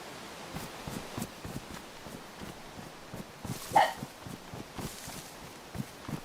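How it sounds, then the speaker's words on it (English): A pet dog barks repeatedly in a home, short sharp barks in an irregular rhythm with one louder bark near the middle, fairly faint and somewhat distant, with no talk over them. "If you guys hear my dog barking, I do apologize."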